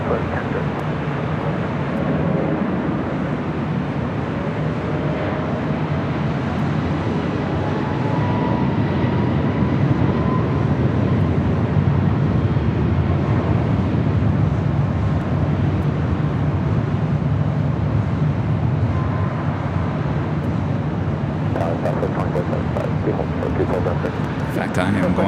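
A Southwest airliner takes off from LAX runway 24 Left, a continuous broad roar heard from a distance that holds steady for the whole stretch.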